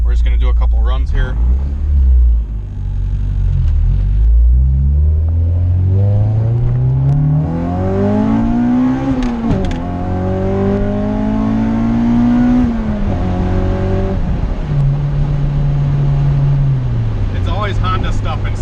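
All-motor Honda Integra GSR engine on a dynamometer, loud and close, climbing steadily through the revs in a long pull, shifting up again, then easing down to a lower drone.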